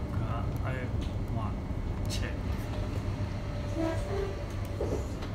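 A train approaching Enfield Chase station rumbles steadily along the rails with a low continuous drone, while brief voices and faint clicks come and go over the noise.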